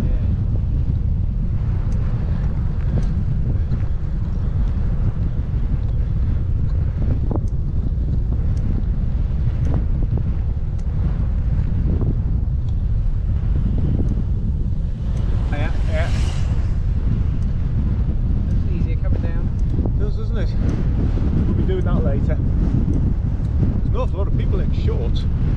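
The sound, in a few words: headwind blowing while cycling up Chapel Fell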